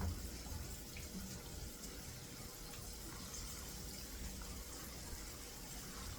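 Water running steadily from a kitchen tap, a continuous rushing gush with a slight splash onto a surface, fairly close and constant for several seconds with no talking.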